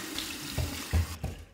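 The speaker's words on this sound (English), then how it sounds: "we're gonna do my final cold water rinse right from the tap" Cold water runs from a bathroom sink tap, a close, steady hiss of flowing water with a few soft splashes as it hits the basin.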